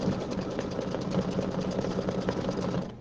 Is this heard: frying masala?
no